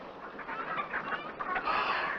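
A brown hen clucks softly in short, quiet bursts at a distance, with no speech over it.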